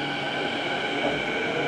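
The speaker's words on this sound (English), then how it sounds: "the doors are closing right now. The train's going to take off." A Vancouver metro train pulls out of a station with a steady, loud rumble and hum of wheels and motors, heard up close on the platform.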